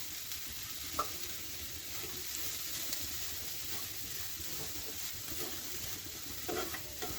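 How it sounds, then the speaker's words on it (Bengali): Grated coconut stirred in a hot karahi on a gas stove, with a steady, close sizzle under a soft spatula scrape and a couple of brief clinks, with no talking. "নারকেল কোড়াটা একটু নেড়ে নিলাম।"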